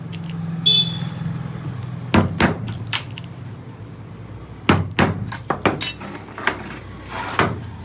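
A hammer strikes a wood and aluminium mirror frame during assembly, giving about a dozen sharp, irregular knocks in short clusters over a low background hum. No one speaks.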